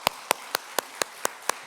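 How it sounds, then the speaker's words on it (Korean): Seven sharp, evenly spaced claps, close and clear against a quiet background, in a church congregation giving a round of applause to God at a mission dedication service. "우리 하나님께 영광의 박수 한번 올려드리기 원합니다"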